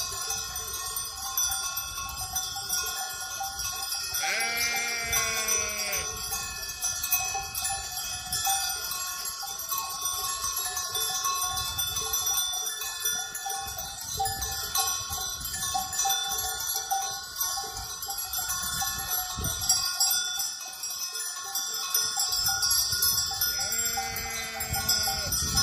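Loud sheep bleating comes in two drawn-out calls over steady bell clanking and a dense rural background.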